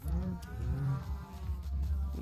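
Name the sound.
cows mooing in a video game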